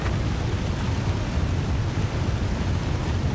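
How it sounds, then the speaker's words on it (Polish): Steady broadband rush of a waterfall in the snowy survival game The Long Dark, a constant dense roar with no breaks or voices. "Kurde, tu jest wodospad."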